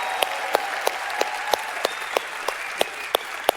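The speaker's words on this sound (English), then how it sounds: "A round of applause for Jim Caldwell," An audience at a corporate convention gives a round of applause, with sharp, regular claps standing out over a steady wash of crowd clapping at moderate distance.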